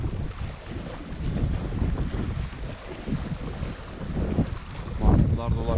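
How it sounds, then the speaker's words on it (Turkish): Strong seaside wind at Babakale, Çanakkale, on the Aegean coast roars continuously and buffets the microphone, with low gusty rumbling surges that swell louder toward the end. "Rüzgar insanı yoruyor, çarpıyor."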